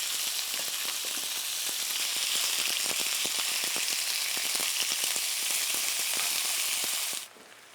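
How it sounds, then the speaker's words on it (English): Thinly sliced meat browns in a hot pan with a loud, steady sizzle and crackle, scattered pops and faint stirring scrapes, until the frying noise drops away sharply at the very end. "once your meat is starting to brown"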